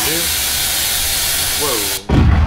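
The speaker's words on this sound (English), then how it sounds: "So these, if we lit them, they're just going to fly down the street." Fireworks in the game Fireworks Mania hiss loudly and steadily, with faint whistling tones, before a sudden louder burst as one shoots down the street.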